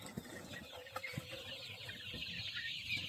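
Golden chickens on a poultry farm cluck and murmur as a crowded flock, short scattered calls over a constant background hum, with no talking.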